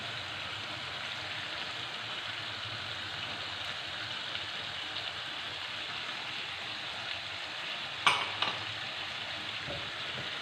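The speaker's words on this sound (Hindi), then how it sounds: "इसको अच्छी तरह भून लेंगे" Slit green chilies and yogurt for a chicken Afghani karahi sizzling in a pan over a medium-low flame, a steady close hiss with a couple of brief clinks near the end and no voices.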